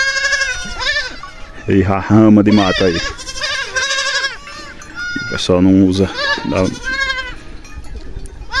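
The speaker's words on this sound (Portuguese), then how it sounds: "Isso aqui é as cabras paridas, ó." A large herd of native goats, including nursing mothers, on a rocky pasture farm, bleating loudly and repeatedly in overlapping calls near and far while someone talks over them.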